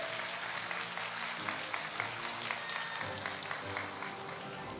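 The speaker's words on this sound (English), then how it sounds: "Another big round of applause for the world champion, Hazamare." An audience applauds the world champion at the Epic Seven World Arena Championship 2024 finals, sustained crowd clapping that stays steady throughout with no pauses.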